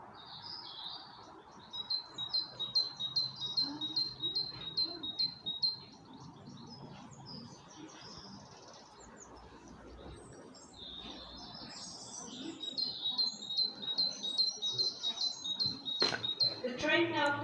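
A bird sings near a railway station, repeating bright chirping phrases in two bursts separated by a quieter stretch, over soft outdoor background noise, with a voice now and then.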